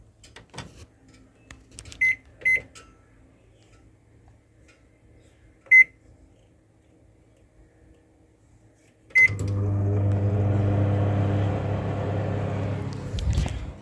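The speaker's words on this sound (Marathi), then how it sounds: "ओव्हनमध्ये टाकतो याला" A microwave oven heating a meal hums steadily and fairly loudly for about four seconds, preceded by a few scattered clicks and beeps of the door and keypad, with no talking.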